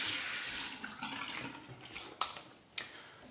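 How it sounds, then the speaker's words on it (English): Tap water runs into a sink for a hot-then-cold face rinse after a wet shave, a close splashing stream that fades, followed by two sharp knocks near the end. "let's go final rinse with hot and then cold water on the face"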